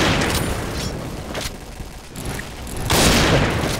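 Loud blast from a grenade in the shooter game Point Blank, with a dense burst of bangs at the start, a quieter stretch, then another broad explosive rush near the end amid ongoing gunfire.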